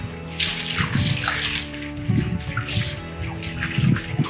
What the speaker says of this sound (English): I always like to wet all the walls down before I start